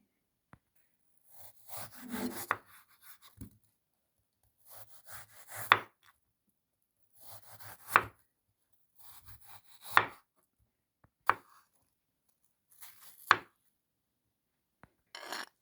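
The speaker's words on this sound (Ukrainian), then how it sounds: "Нарізаю яблучка дрібненькими кубиками." A knife chops firmly against a board in a slow, irregular series of crisp cuts, each with a short scraping rub, close and otherwise quiet, cutting apples into small cubes.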